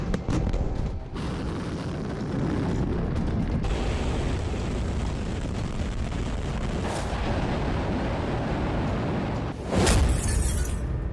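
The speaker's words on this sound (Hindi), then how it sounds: "पुतिन की मॉडर्न मिसाइलें आग बरसा रही हैं।" Modern missile strikes exploding make a dense, loud, rumbling roar, with sharper bursts near the start and again close to the end.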